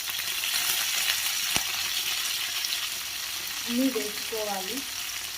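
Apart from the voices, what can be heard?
onions and curry leaves frying in a pan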